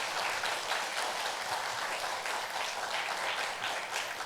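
Dense, steady applause from a seated audience at a traditional Korean music and arts evening, many hands clapping continuously at an even loudness throughout with no voices.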